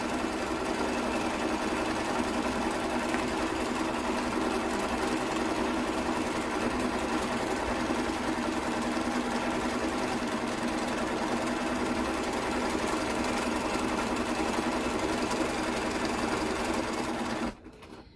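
A sewing machine runs steadily at a constant speed, free-motion stitching circles into a quilt, with a loud, continuous motor whir that stops abruptly just before the end.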